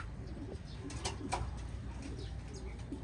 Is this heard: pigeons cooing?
yes